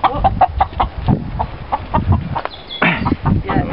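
Backyard chickens cluck in short repeated bursts close by, with people talking over and between the calls.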